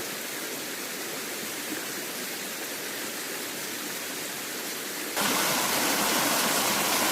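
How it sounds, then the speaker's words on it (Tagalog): Steady rushing water from small streams along a trail to Caihulo Falls in Barangay Bahile, broad and constant, suddenly grows louder and brighter near the end. "samahan pa ng malamig na tubig na dumadaloy mula sa mga maliliit na sapa na dinadaanan natin"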